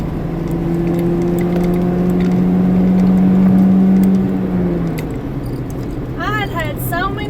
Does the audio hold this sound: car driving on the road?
yes